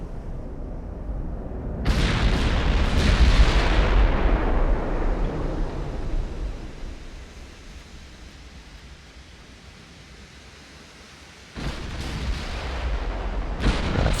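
Heavy naval gunfire in the warship game Ultimate Admiral: Dreadnoughts: a loud, booming salvo that rolls into a long fading rumble, followed by another burst of cannon fire near the end. No voices.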